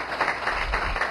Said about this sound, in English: I just want to give him a round of applause and thank him.